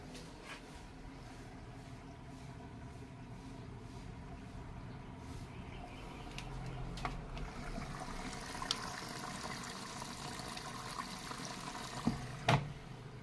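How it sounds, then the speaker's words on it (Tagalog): A Samsung front-load washing machine, just fitted with a new hose, fills with water in a steady, quiet rush, with a few faint clicks and knocks near the end. "So yan, mapasok na tubig, naiipon sa loob."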